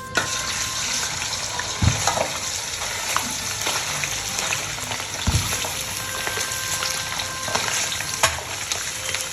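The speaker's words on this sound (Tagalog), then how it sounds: "Dyan ay pinrito ko lamang hanggang mag golden brown." Pork belly liempo fries in hot oil in a pan until golden brown, a loud, continuous crackling sizzle with occasional sharper spits and pops, close up and with no talking.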